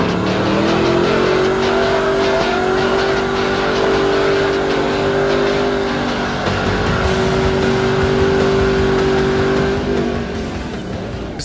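A Ford Mustang does burnouts on Las Vegas Boulevard, its engine held at loud, high, sustained revs with a droning tire squeal, easing briefly before climbing again, close and continuous.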